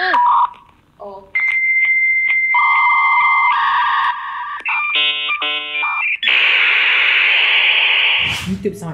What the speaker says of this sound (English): This is the sound of a dial-up internet.